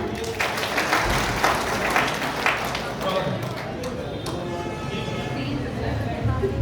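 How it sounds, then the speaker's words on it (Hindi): Audience at a bar association and library Holi gathering applauding, a steady wash of many hands clapping that holds for several seconds and gradually thins. "आप लोग तालियां बजा दीजिए"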